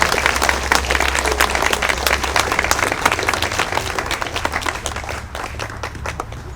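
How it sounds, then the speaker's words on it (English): Audience applause for the Celestial Ensemble musical group at an outdoor city Memorial Day ceremony in West Covina, a dense, fairly loud wash of many hands clapping that tapers off gradually. "Let's give them a round of applause."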